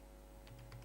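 A few soft, close keyboard keystrokes tap quickly in a short run over a steady low electrical hum.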